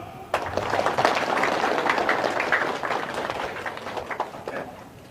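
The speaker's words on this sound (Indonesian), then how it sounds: "Tepuk tangan." An audience at an Islamic religious talk in Indonesia breaks into clapping after a sharp start, a brisk, fairly close patter that gradually thins out toward the end.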